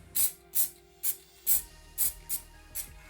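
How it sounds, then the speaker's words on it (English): Short bursts of layering spray hiss from a small hopper over patches of grass on an N gauge model railway layout, seven quick puffs in an uneven rhythm, close and fairly loud with no talking. "So I'm going to put some layering spray down, so I'm just going to put some patches,"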